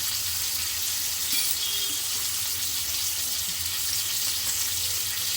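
Pomfret fish fries in oil in a pan, giving a steady, dense sizzle with crackle that holds at an even level throughout, with no voices.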